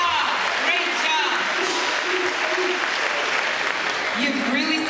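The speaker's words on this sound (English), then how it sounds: "Let's give yourselves another round of applause" Sustained applause fills a convocation hall at a school district gathering, a dense, steady wash of clapping from a large crowd lasting throughout, with a brief voice rising near the end.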